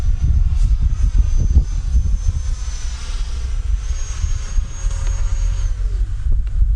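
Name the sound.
RC F-22 Raptor model jet flying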